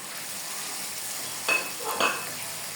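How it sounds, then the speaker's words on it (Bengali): Boiled green peas are tipped into a pan and stirred, giving a steady hiss of sizzling with two short, close scraping stirs. "এখন এখানে আমি দিয়ে দেব সিদ্ধ করে রাখা মটরশুঁটিগুলো"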